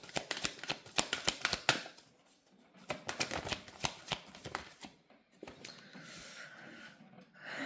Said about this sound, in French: je vais vous prendre quelques cartes de mon oracle